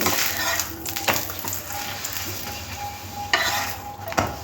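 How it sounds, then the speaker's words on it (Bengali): Paratha fries in a pan with a little white oil, a continuous close sizzle broken by a few scraping and clanking strokes of a spatula against the pan. "আমি এখানে সাদা তেল দিয়ে ভাজবো"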